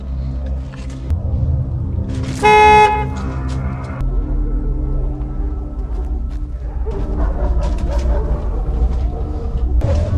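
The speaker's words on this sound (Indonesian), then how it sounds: "tidak sengaja membunyikan klakson mobil dan itu sangatlah fatal" A single short car horn honk cuts through a steady low engine rumble, with muffled background noise continuing after it.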